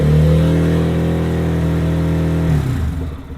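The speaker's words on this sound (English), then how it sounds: "Let me rev it up and see if it comes up any." A Lifan KPM 200 motorcycle engine is held at a steady high rev for a couple of seconds, a loud, close, buzzing drone that then drops away as the throttle is released.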